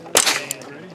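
A single sharp, close gunshot from a Grey Birch Fusion 10/22 rimfire rifle: one quick crack with a brief ring that dies away fast.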